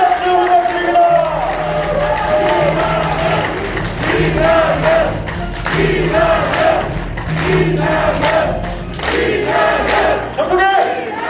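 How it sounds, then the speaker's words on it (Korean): A large crowd at a welfare forum launch event in Gumi roars with loud cheers and shouts that rise and fall in repeated waves, with some clapping and voices throughout. "큰 박수 부탁드립니다."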